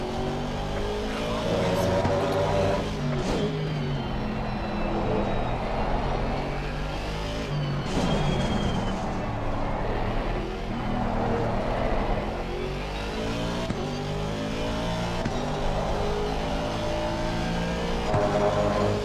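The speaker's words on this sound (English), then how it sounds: "That BMW is coming up on me good." A BMW race car engine in a racing video game roars and revs through the gears, a loud continuous whine that rises and falls, with someone talking over it.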